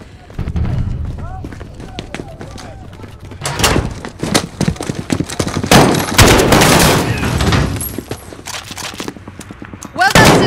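Gunfire in Call of Duty: Modern Warfare (2019), bursts of loud rapid shots and impacts mixed with game voices talking, close and intense, with a final burst at the end.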